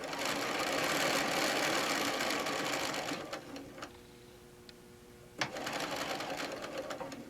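A sewing machine stitches fabric for a pincushion in fast, steady close runs, pauses with a few faint clicks, then starts stitching again.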